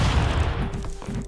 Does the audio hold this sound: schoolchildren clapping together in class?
no